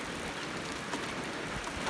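Steady rain falls on a farm where cassava is being planted, a soft even hiss spread across the whole moment with no voices.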